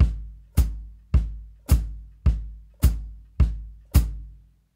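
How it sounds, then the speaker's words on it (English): Jazz drum ostinato played alone on a kit: eight evenly spaced, loud bass drum quarter-note hits with ringing decay, the hi-hat on beats 2 and 4 not clearly separable. "a traditional jazz ostinato while demonstrating all of the preparatory exercises, which is quarter notes on the bass drum and 2 and 4 on the hi-hat"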